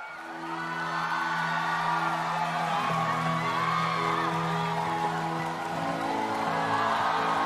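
Large crowd at a live New Year's Eve concert cheering, whooping and applauding in a steady, dense roar, with sustained musical tones underneath.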